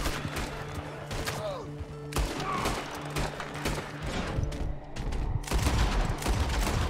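Gunfire rings out in Red Dead Redemption 2 during a bounty hunt, with repeated sharp shots and volleys cracking at irregular intervals, some close and loud, others overlapping in bursts.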